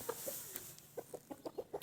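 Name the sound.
rooster clucking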